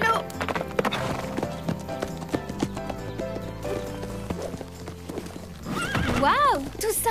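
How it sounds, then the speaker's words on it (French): Quick rhythmic hoofbeats of a horse moving at a canter, with a loud whinny near the end over background music. "Petit galop."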